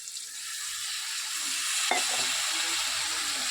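Loud, steady sizzling hiss of spinach, potato and kohlrabi frying in a pan, with one brief sharp tap midway and the hiss growing slightly as water goes in; no voices.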